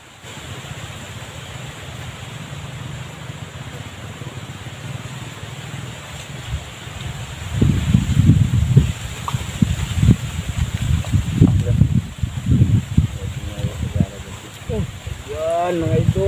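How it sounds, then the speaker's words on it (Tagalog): Strong wind gusts through leaves beside water, a steady broadband rush that swells louder partway through, with a voice talking over it near the end. "napakalakas ng hangin mga idol"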